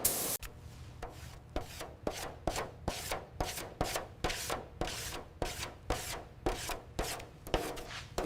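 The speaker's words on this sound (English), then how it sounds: "Keep the sanding even on this edge." Steady rhythmic sanding strokes scraping across the metal body of a 1938 Phantom Corsair car, about two per second, close and continuous without any talking.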